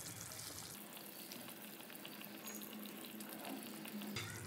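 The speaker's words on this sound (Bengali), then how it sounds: "তো সবজিটা আমার খুব ভালোভাবে ফুটে উঠেছে" Vegetable curry in broth bubbling away in a pot on a gas stove, a steady close hiss and sizzle of simmering liquid with a brief change in texture near the start and end.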